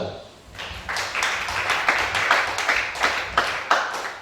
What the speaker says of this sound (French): Acclamez ça